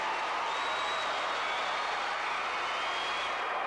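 An arena crowd at a 1992 gymnastics floor exercise event cheers and applauds after the routine, a dense, even wash of clapping and cheering from a distance, without audible talk.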